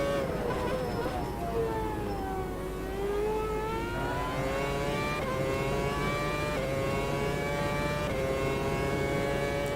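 A V8 race car engine in Automobilista 2 on the Bathurst circuit, revving and rising steadily through the gears, dipping briefly on a shift, loud and continuous.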